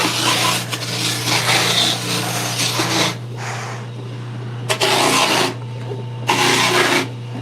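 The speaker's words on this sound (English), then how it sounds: "we get to go over to the orbital, which I have hooked up to a Festool dust extractor" An orbital sander hooked to a Festool dust extractor works a handmade wooden skateboard deck: loud abrasive rasping passes under a steady extractor hum, broken by several short pauses and restarts.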